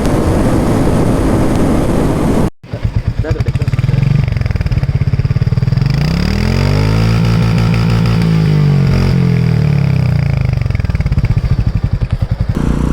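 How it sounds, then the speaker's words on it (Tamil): A Royal Enfield Meteor 350 motorcycle exhaust thumps loudly and close, with a brief cut before the engine revs up and settles back into a steady idle thump. "Let's listen to the exhaust note."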